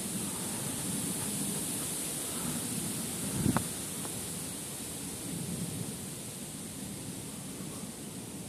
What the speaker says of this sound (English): Here comes the wind. It's definitely heading our way.